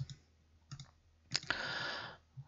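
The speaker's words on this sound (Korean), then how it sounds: "그러면 클릭, 클릭, 클릭." A computer mouse clicking while working in Maya software: a few sharp, close single clicks spaced apart, followed by a longer soft rustling stretch and one more click, quiet and without talk.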